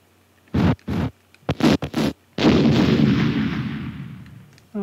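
Gunfire in a Philips CD-i video game: four quick booming shots in close succession, then a heavier blast whose rumble slowly fades, with no talk over it.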